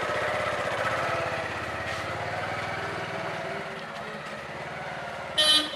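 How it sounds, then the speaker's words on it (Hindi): A motorbike engine runs steadily at close range as the ride begins on the way to Digoti village in Pithoragarh, a buzzing idle-to-cruise drone with a short sharp horn toot near the end. "देख सकते हैं बाइक स्टार्ट हो चुकी है और हम निकल रहे हैं डिगोटी"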